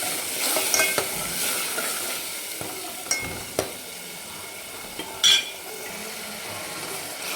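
Tomato with a green chili, coriander, ginger and garlic paste sautéing in oil for a potato curry, a steady sizzle broken by spoon scrapes and clinks against the pan, one louder knock, close and without talk.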